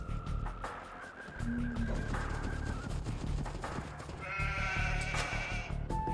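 Sheep bleats from Age of Empires II gameplay, a few short cries rising among layered game effects, distant gunfire-like clatter and ambient rumble, with no talking.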